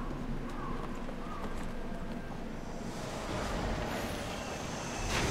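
Horse hooves clip-clopping in the video game Neverwinter, a steady run of hoofbeats under game ambience and birdsong, with a voice talking over it.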